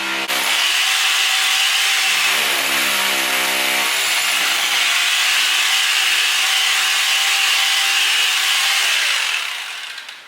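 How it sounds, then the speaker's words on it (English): A power drill bores into a thick concrete floor, a harsh continuous grinding roar with a low motor whine that shifts pitch early on, loud and close, running unbroken for about ten seconds before easing off. "he's drilling right now, and we're gonna see how thick that concrete is"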